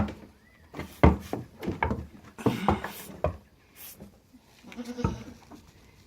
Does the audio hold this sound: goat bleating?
yes